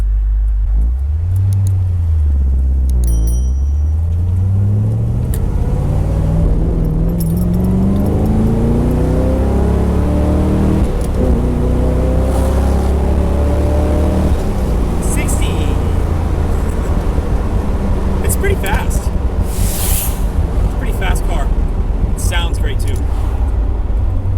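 An unrestored 1972 Chevy Corvette V8 engine revs and accelerates hard, its deep roar climbing in pitch through the gears, close and loud, with some talking over it.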